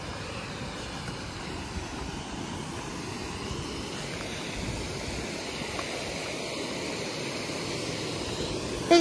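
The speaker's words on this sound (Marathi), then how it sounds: "नदी म्हणजे जे पाणी वाहत आहे ते दिसत आहे" A village river flows in a steady, broad rushing wash, close and continuous for the whole stretch with no voices over it.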